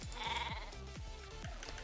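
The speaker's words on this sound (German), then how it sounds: "Warum läuft das Schaf auf dem Berg?" Sheep in the video game Star Stable Online bleating repeatedly, a string of close, clear bleats in quick succession with no talk over them.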